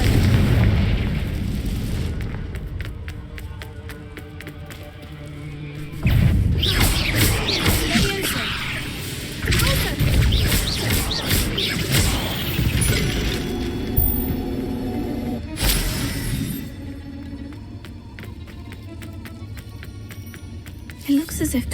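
Confringo blasting-spell explosions in Hogwarts Legacy inside a cave, with several loud booming bursts that land at intervals, each followed by rumbling debris, under game music and a voice talking.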